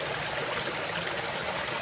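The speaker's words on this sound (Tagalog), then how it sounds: "Tinutuluan ng tubig na yan." Water trickling down a rock face, a steady, continuous wash of light splashing that holds an even, moderate level throughout with no voices.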